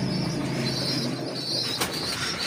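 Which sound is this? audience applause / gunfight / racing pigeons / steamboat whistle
racing pigeons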